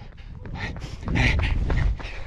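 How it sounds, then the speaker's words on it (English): A dog barks and yelps at close range in short, loud bursts while chasing a runner on a street in Leadville, Colorado. "Dog was chasing me."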